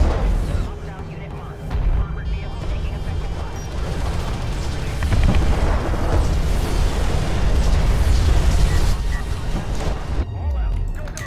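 Heavy artillery barrage in the Homeworld space strategy game: a dense, continuous rumble of booming explosions and bursts that builds in intensity, loud and sustained throughout, with game effects and possible commentary voice mixed in.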